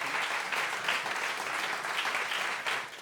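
Sustained audience applause at a tribute event for a Swiss tenor, a dense steady wash of many hands clapping for about three seconds with no voices on top.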